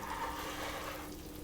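Condensed milk poured into a dissolved sugar mixture for a banoffee pie filling, a steady liquid gush that runs for about a second and then thins out at the end.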